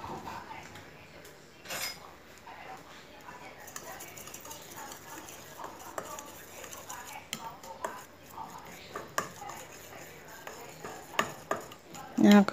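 A spoon scrapes and taps against a bowl while chili powder is stirred into a seasoning mix for grilled squid, with intermittent clinks and a faint voice speaking in the background.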